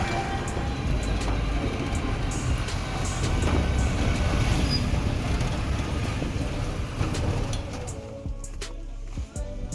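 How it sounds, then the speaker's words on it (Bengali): A ride in a toto electric rickshaw along a road, with a continuous rumbling, rattling drone of wheels and road noise and sporadic clicks, loud and unbroken throughout before easing near the end. "একটা টোটো করে যাচ্ছি আর সেই একই রাস্তা দিয়েই যাচ্ছি"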